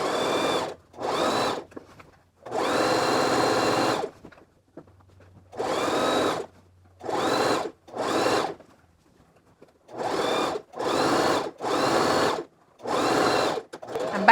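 A sewing machine understitching a skirt seam runs in repeated bursts of steady whirring, each lasting about one to two seconds, separated by short pauses, fairly close and loud with no talking.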